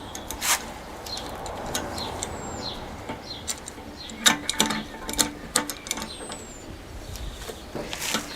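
Metal bolts and wing nuts being tightened on a close-coupled toilet cistern, heard as a run of small ratcheting, clicking and scraping sounds up close, rising in the second half, with faint birdsong far behind.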